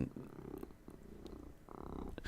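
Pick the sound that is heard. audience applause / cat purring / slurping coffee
cat purring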